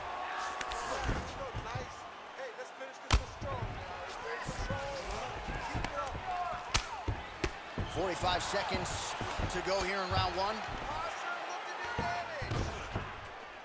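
Ground and pound punches land in UFC 4, Islam Makhachev against Rafael Dos Anjos, as a string of sharp thuds and slaps scattered through the round beneath steady commentary and a constant crowd hum.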